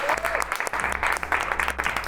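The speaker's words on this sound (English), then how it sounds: "Round of applause for everybody." Enthusiastic applause breaks out from a group celebrating the end of a takt time simulation exercise, dense continuous clapping close to the microphone.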